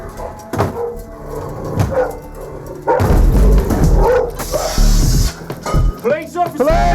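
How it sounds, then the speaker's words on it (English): A hostile guard dog barks and yelps repeatedly as police enter a property in the UK, loud and close, with people talking and shouting over the commotion. "the property is guarded by a dog who is likely to be very hostile"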